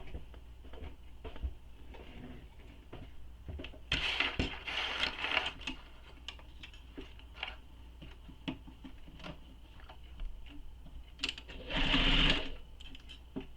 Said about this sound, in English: Now we're going to sew this with the seam allowance given in the pattern.